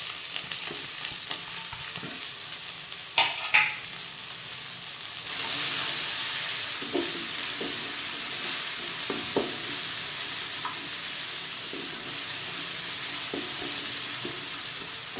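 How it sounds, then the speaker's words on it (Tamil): Sliced onions and green chilies frying in hot oil in a pan, a steady sizzle and hiss running throughout with a few brief clinks of a spoon early on and occasional soft stirring scrapes. "இந்த வெங்காயம் நல்லா பொன்னிறமாக வணங்கட்டும்."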